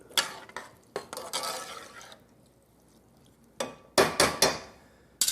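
Water being stirred in a metal cooking pot, a handful of scraping clanks and sloshing splashes in short irregular bursts, close by with quiet gaps between.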